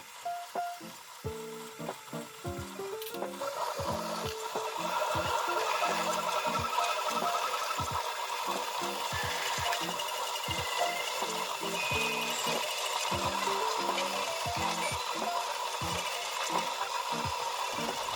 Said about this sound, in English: You are also cleaning the nozzle before starting the auto bed leveling.